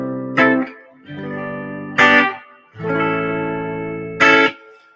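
Electric guitar through a VOX AC30 using its built-in reverb: three sharp strummed attacks, each trailing into a held, ringing chord.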